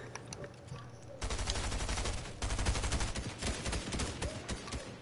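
Enemy gunfire in a video game comes as dense, rapid automatic bursts that run almost without a break and grow louder partway through.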